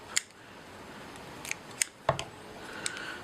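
Several quick, crisp snips of small scissors trimming fly-tying material for an ant fly, sparse and irregular, close up over a quiet room hiss with no talking.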